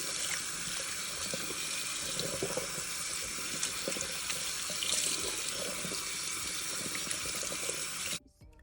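Water from a tap runs steadily as hair color is rinsed out, a continuous close splashing rush that stops abruptly near the end.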